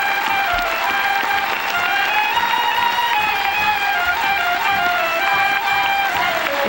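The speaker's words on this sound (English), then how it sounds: "Audience clapping." A theatre audience claps as the actors gather on stage at the end of a performance, a sustained crowd of applause heard steadily under a prominent held musical tone.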